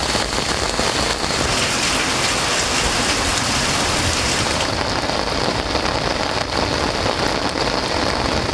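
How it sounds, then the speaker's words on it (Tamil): Heavy rain driven by strong wind pours steadily and loudly, a dense continuous roar of drops close by from start to finish, with no voices. "பலத்த காற்றுடன் கனமழை பெய்தது"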